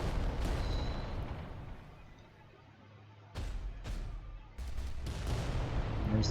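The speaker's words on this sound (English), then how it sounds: "There's the shooting going on." Reaver titans trade gunfire in Adeptus Titanicus: Dominus, a dense roar of heavy booming shots and blasts that rises and falls, with sharp loud bursts landing in the middle and near the end.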